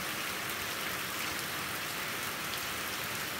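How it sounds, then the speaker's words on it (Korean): A sudden heavy rain shower pours down in a dense, even hiss of falling water, loud and unbroken throughout, with no voices. "비가 아주 멋지게 내리는데요."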